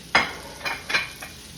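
A T-bone steak sears in a hot pan with rosemary and garlic tucked under and on top, giving a close sizzle in four short scraping bursts.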